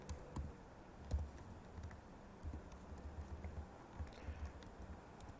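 Faint, quiet keystrokes tap on a computer keyboard while code is typed, an irregular patter of soft clicks with occasional sharper presses over a low background hum.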